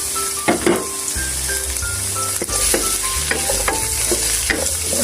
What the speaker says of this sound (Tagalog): gigisa na natin ang ating sibuyas, bawang, at luya.